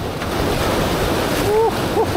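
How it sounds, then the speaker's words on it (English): Wind gusts along the Costa Brava sea coast, a steady loud broadband rush with surf-like wash close to the microphone, and a couple of faint high squeaks near the end. "The wind picks up just a tad as I approach to the next and final stop."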